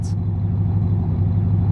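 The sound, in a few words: sound effect of a car passing the camera, panned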